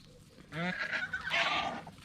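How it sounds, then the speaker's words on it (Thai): Fighting farm turkeys let out harsh, honking squawks in two close bursts: a wavering call followed by a rougher, noisier cry, with no talking. "พี่น้องเห็นบ่ครับไก่งวงตีกันครับ"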